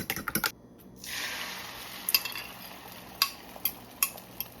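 A fork whisks eggs in a bowl in a few quick bursts of light metallic clicking and scraping, close and fairly faint.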